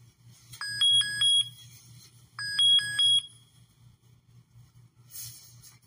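PPE detection software plays an alert tone, two quick bursts of bright repeated electronic beeps about two seconds apart over a low steady hum, with no one speaking.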